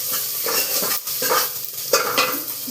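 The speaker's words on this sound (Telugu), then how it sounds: "మన పోపు అయితే రెడీ అవుతుంది." Popu tempering sizzles in hot oil in a pan while a spoon stirs it, the frying hiss swelling with each scraping stroke, close and without talk.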